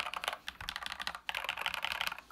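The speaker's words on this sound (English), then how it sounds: "it's just a different typing sound" Rapid typing on a mechanical computer keyboard with a hollow, empty-sounding case on a desk mat, a steady clatter of keystrokes with one brief pause partway through.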